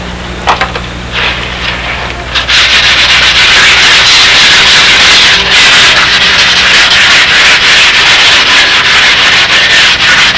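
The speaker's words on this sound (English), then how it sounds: "All you need is a sanding block." Sanding block rubbing along the edge of a model aircraft part, a loud, close, continuous abrasive rasp with rapid back-and-forth strokes after a few brief starting scrapes.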